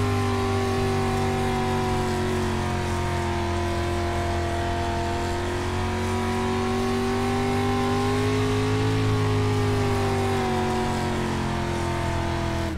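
Street stock race car engine in the iRacing sim at Bristol, a steady loud mid-pitched drone with harmonics that rise slightly as throttle is cracked, holding continuously close up with no talk over it.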